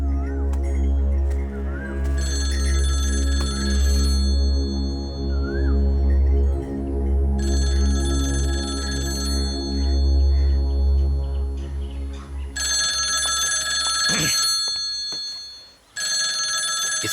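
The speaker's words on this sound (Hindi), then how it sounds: "इस वक्त कौन फोन कर रहा है?" A telephone rings at night in a room with a steady low hum, giving several long bursts of bright electronic ringing with short gaps between them and no voices.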